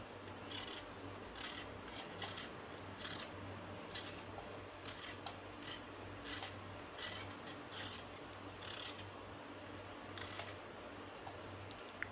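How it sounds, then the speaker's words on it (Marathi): A raw potato is scraped with a hand peeler in a quiet kitchen, giving a series of short, crisp rasping strokes in an even rhythm, close and fairly soft, with no one talking. "तर ही बघा, ह्या छिलण्याने अशी साल काढून घ्यायची।"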